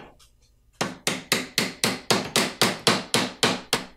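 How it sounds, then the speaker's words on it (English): Quiet start, then a steady series of about a dozen sharp, evenly spaced mallet blows on a brass end cap of a shop-made screwdriver, each ringing briefly before the next. "I just hammer it in with my mallet"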